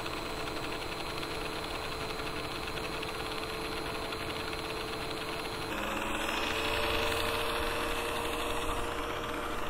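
A drill-mounted quail plucker runs with a steady, close mechanical whir and hum that shifts slightly in pitch and grows a bit louder about halfway through, with no talking.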